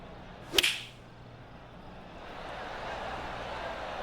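A 9-iron approach shot in the PGA Tour 2K25 golf game lands as one sharp, bright club strike, followed by a soft swoosh and a slowly building crowd murmur.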